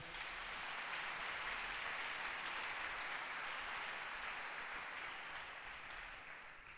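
A church congregation applauding together, a sustained wash of clapping from many hands that holds steady at a moderate distance, then fades slightly near the end.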